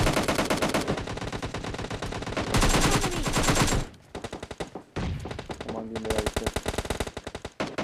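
Rapid automatic gunfire from PUBG Mobile Lite, with dense bursts and sustained machine-gun rattles that break off briefly and then resume as sharp, loud, closely spaced shots.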